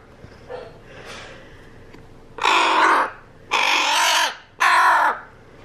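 A pet crow, hungry and calling for food, gives three loud, harsh, raspy caws close by, each about half a second long and evenly spaced. Softer rustling and a faint call come before them.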